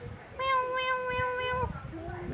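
A cat gives one clear, drawn-out meow close by, followed by a shorter, fainter second meow.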